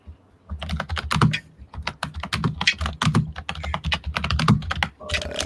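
Steady typing on a computer keyboard, a fast run of clicky keystrokes in uneven bursts, close and clear with no talking over it.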